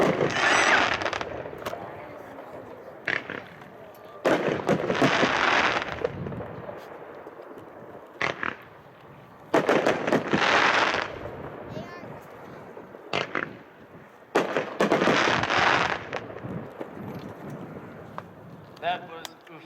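An Ufta consumer fireworks cake fires at an outdoor demo show, sending out repeated bursts of booming shots and crackling volleys with short gaps between them, loud and distant, and crowd noise sits underneath.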